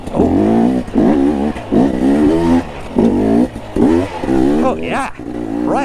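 A dirt bike engine revs repeatedly while riding a trail, loud and close, rising and falling in pitch with each throttle burst and gear change.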